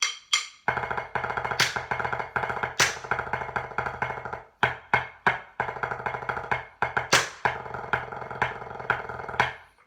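A snare drum plays fast 5/3 tap rolls at tempo, crisp dense strokes in repeating bursts with sharp accents and short gaps, close and loud, with no voices.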